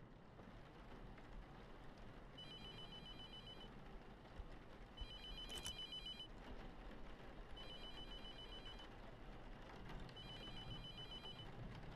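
Telephone ringing in the horror game The Mortuary Assistant: four bursts of an electronic bell ring at a steady pace over a low, rumbling ambient background, with no talking.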